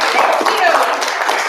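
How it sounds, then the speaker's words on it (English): Brief scattered clapping from a small audience at a convention stage, a short burst of hands mixed with nearby voices. "Somebody clap."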